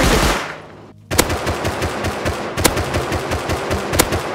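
AK rifle gunfire in the survival video game Rust, with shots fired through bushes: loud, close, rapid automatic bursts cracking in quick succession after a brief lull, with no talking.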